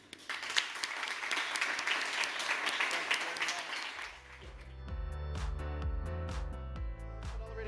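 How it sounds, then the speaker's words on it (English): Audience applause for speakers at a startup conference session, dense clapping filling the first half before fading under music that swells and carries on to the end. "please join me in an applause for our speakers"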